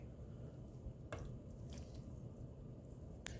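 Pieces of chicken eased with a spoon into a pot of boiling water, giving soft wet plops and squishes over a steady bubbling hiss, with a couple of faint metallic clicks.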